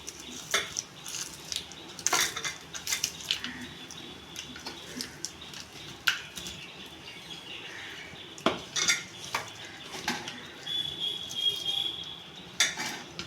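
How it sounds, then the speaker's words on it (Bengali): Garlic and onion being mashed by hand for a jackfruit-seed bharta, with soft squishing and repeated clinks of a utensil against a plate or bowl, close and intermittent, no talking. "এই যে রসুন আর পেঁয়াজটা আমি হাত দিয়ে চটকে নিচ্ছি।"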